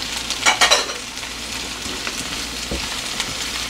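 Garlic and celery sautéing in a pan as the base for a shrimp and vegetable soup, a steady close sizzle with a brief burst of stirring near the start and a single soft knock later.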